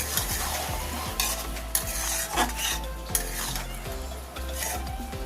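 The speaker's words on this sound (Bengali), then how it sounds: "চিংড়িটা তরকারির সাথে মিশিয়ে নেব" Fried prawns are stirred into a taro leaf curry in a pan, with a steady close sizzle under repeated scraping and clinking strokes of the spoon against the pan.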